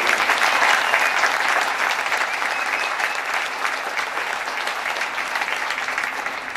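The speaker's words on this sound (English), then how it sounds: "So give those guys a round of applause." A large crowd at a hockey national championship celebration applauds former players, loud sustained clapping that holds steady from start to finish.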